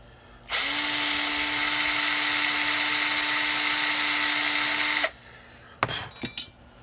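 A power drill bores shallow holes for side dot inlays, giving one loud, steady whine that runs about four and a half seconds, then stops and is followed by a few brief clunks and rattles.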